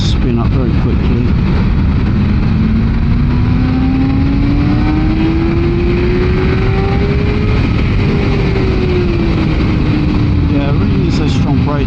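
BMW M1000XR sport motorcycle engine revving hard through low gears on a road test ride, pitch climbing steadily then dipping at a shift and rising again, loud and close with heavy wind rush throughout.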